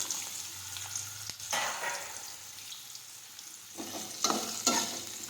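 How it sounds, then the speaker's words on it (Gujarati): Mustard seeds, cumin, asafoetida and kantola (spiny gourd) fry in hot oil with a steady close sizzle, broken by a few louder bursts of spattering and stirring toward the end. "હવે આપણું તેલ છે તે ગરમ થઈ ગયું છે હવે આપણે તેમાં રાઈ અને જીરું નાખીશું હિંગ નાખીશું કંટોલા નાખીશું"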